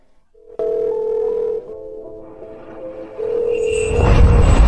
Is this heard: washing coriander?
no